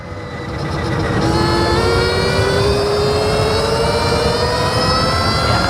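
A Stark Varg Alpha electric dirt bike accelerates at half throttle in mode 2, its motor giving off a steady, loud whine that climbs gradually in pitch over a constant rushing roar.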